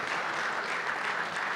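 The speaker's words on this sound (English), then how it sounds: "I think he deserves a very big round of applause." Brief burst of steady audience clapping at a conference session on rural electrification, a dense even patter of many hands with no speech over it.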